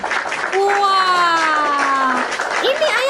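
A congregation at a Christian sermon claps along after being urged to, producing a soft, dense patter of hands that sits under a loud voice singing or calling out with long held tones.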